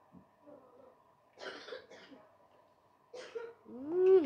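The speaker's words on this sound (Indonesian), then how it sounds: "saya batuk" A few close, harsh coughs in short bursts, separated by quiet pauses, ending with a strained vocal sound.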